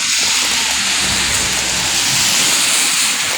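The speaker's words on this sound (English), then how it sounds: "You can see the rain has just started" Steady, dense hiss of rain falling in Mineola, a continuous broadband wash of drops at fairly loud, even level with no talk.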